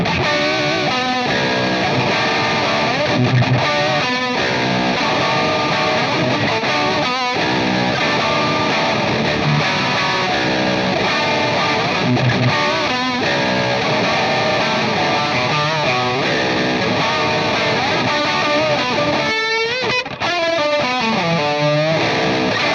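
Heavily distorted metal guitar run through a CHUG LIFE DynIR cabinet pack with reverb added, playing dense chugging riffs and sustained chords continuously and loudly, ending in a sliding, ringing phrase.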